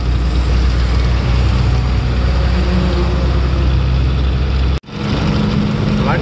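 A very large goods vehicle on the road drones with a loud, steady engine rumble while being overtaken; the sound cuts out sharply for a moment, then resumes.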